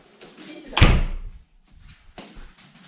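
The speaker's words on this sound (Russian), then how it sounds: "Ты шо передо мной дверь закрываешь?" A door swung shut with one firm slam, close and loud, followed by quieter shuffling and handling noises.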